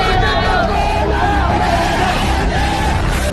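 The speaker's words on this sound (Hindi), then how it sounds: "हैदराबाद की जनता जोश में तालियां पीटती हुई सुनाई देती है" Dense, loud crowd roar with yelling and cheering at an Owaisi political rally in Hyderabad, continuous throughout with a voice rising over the din.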